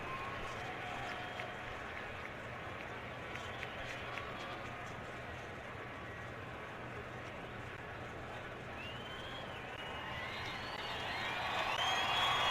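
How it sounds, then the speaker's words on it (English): A stadium crowd at a 2014 Raiders at Broncos NFL game offers scattered applause for David Bruton, heard distantly under a continuous broad crowd murmur that swells toward the end. "And David Bruton gets a hand from the crowd."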